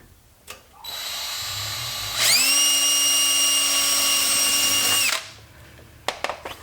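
A power drill with a thin bit whirs steadily into plastic-dipped plastic on a Toyota Tacoma front plate mount, then revs higher and strains for about three seconds as the plastic heats and tears, stopping, followed by light clicks and handling sounds.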